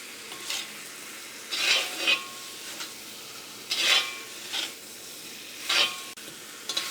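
Capsicum chicken masala being stirred in a pan, with repeated bursts of spoon scraping and sizzling spaced a second or two apart over a steady background frying hiss, close and moderately loud, no talk.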